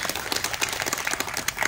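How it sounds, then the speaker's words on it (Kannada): An audience claps together in a brief, even burst of applause, a dense patter of many hands at moderate loudness with no voices over it. "ಆ ಒಂದು ಇತಿಹಾಸಕ್ಕೆ ನಿಮ್ಮ ಒಂದು ಚಪ್ಪಾಳೆ ಬರಲಿ."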